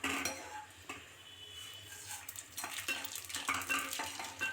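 Peanuts tossed into heated oil in a pan for upma and stirred, with repeated scraping and clinking of a spoon against the pan over a light sizzle; close, steady, no voices.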